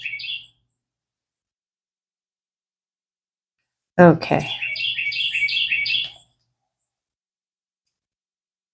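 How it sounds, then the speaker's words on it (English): Short bird chirps outdoors near a deck: a brief call at the start, then after a silence a rapid string of repeated tweets, close and clear, with a soft spoken word nearby. "I'm just loving these birds."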